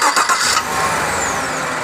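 A car engine with a 6L80 automatic transmission cranks and catches, then settles into a steady mid-pitched run, close and fairly loud.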